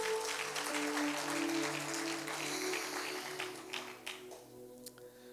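A church congregation applauds and cheers to acclaim the Lord, steady dense clapping that gradually thins out and fades toward the end, with no one speaking over it.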